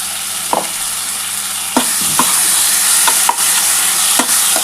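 Ginger-garlic paste sizzles and fries in a pan with onion and tomato masala for mutton kosha, a steady close hiss broken by several sharp scraping stirs of a spatula.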